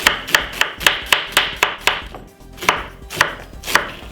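A knife chopping white onion on a cutting board: crisp, close thuds in a quick regular rhythm, a short pause midway, then a few more spaced cuts.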